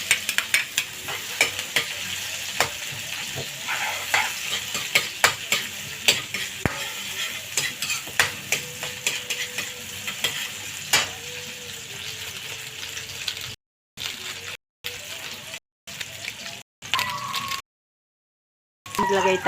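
Onion and garlic fry in chicken oil with a bright sizzle under repeated scraping and stirring in the pan, and the sound breaks off in short gaps near the end.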